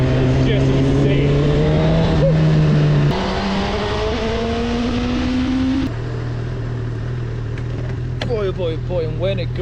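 A Honda CB1000R motorcycle engine revving hard while riding through Edinburgh, loud and close with a rising whine that climbs, drops at gear changes and climbs again, ending in a few short throttle blips.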